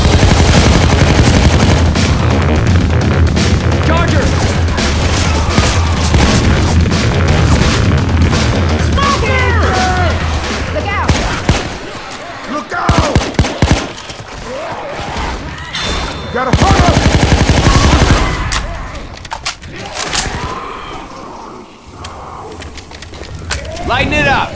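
Dense gunfire fills a Left 4 Dead 2 zombie fight, with loud rapid bursts and booms at first, then scattered shots, while voices shout throughout.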